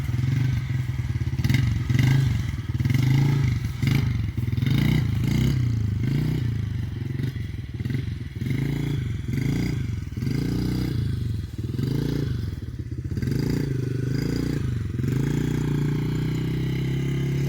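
Dirt bike engine on a ride, a rising and falling motor note with repeated throttle surges in a steady rhythm, fairly close and continuous.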